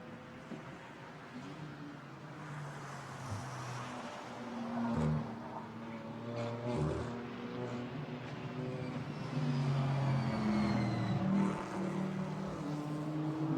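A BMW GT4 race car accelerates out of the Pouhon corner at Spa during a 2020 European series practice session, with a faint, distant engine rising and falling in pitch over a steady background rush; no one speaks.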